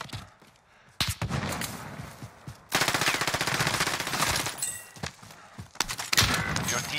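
Rapid automatic gunfire from the Warzone video game rattles in loud sustained bursts with scattered single shots, close and dense.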